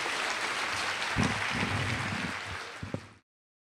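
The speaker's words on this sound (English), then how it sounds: "Can we have a round of applause, everybody, please?" A lecture audience applauding its speaker at a mini medical school talk, a brief, moderately loud wash of clapping that fades out after about three seconds.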